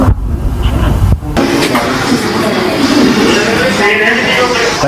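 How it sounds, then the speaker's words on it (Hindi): A motorbike passes on a road with a loud, continuous engine roar that swells and fades, while someone talks over it. "बाइक जा रही है"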